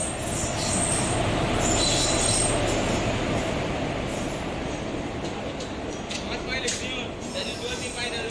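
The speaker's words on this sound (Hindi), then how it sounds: "ये हमारी ट्रेन आ रही है प्लेटफॉर्म नंबर 3 पर।" A passenger train pulls into platform 3 at a busy Indian railway station, its wheels squealing and clattering steadily and loudly throughout, with station announcements and crowd chatter mixed in.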